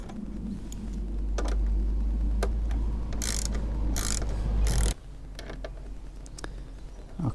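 Screws being loosened on a plastic Honda CB500X windscreen with a ratcheting tool, giving a steady clicking ratchet sound and a few sharper clicks close by.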